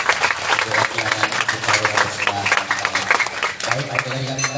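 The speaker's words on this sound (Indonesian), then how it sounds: "beri tepuk tangan yang sangat meriah" A school audience applauds during a visit by North Sumatra provincial legislators, with lively, uneven clapping from a crowd throughout, mixed with voices and a brief dip before the applause picks up again.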